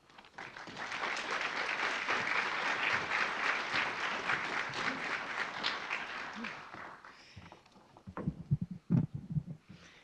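A graduation audience claps in sustained, dense applause to welcome a speaker, loud and even for several seconds, then fading as a few footsteps or knocks and a voice follow.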